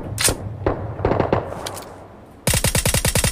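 Gunfire in a video game: a few scattered single shots, then a rapid, loud burst of automatic fire in an even rhythm.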